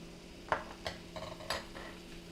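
Spoon scraping and clinking in a pot of browning meat and garlic for lasagna soup, several soft irregular strokes over a faint background hum, no talking.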